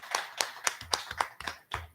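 Applause sound effect on a live radio show, heard as a quick run of about eight sharp claps in an even, close rhythm.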